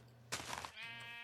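Sheep in a video game give a single short bleat that rises then trails off into a faint held tone over low background hum.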